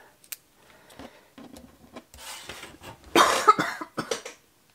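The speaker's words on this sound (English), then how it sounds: "I'm so sorry, I didn't mean to cough." A person coughs several times, close to the microphone, during a handmade cardstock craft session, with brief rubbing and handling noises before the louder cough burst near the end.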